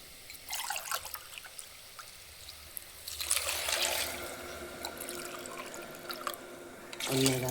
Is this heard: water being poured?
yes